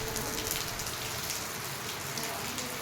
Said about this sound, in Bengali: এত ঝমঝমিয়ে বৃষ্টি হচ্ছিল।